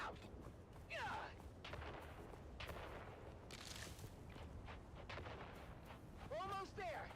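Grenades go off in the video game Dune Awakening: a few heavy booming blasts and gunfire-like bursts in a busy, noisy battle, with voices calling out over the fighting.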